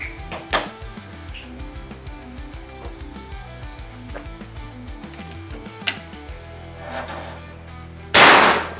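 A single sharp, loud PCP air-rifle crack near the end, preceded by quieter mechanical clicks and light handling noises.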